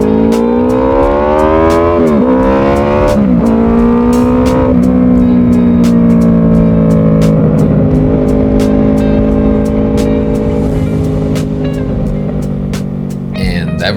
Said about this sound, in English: Here's a little V4 engine eargasm for you